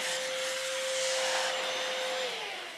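A Vax Cordless Blade 24V cordless vacuum cleaner in handheld mode whirs loudly and close with a steady motor whine, then starts to wind down near the end, with no talking.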